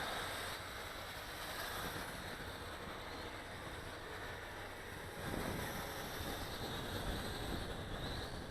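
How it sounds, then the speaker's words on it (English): Wind roars steadily outdoors around a small JJ R/C H8C camera quadcopter in flight, a dense continuous rush with surf-like buffeting that swells slightly louder in the last few seconds. "the wind just really kicked up"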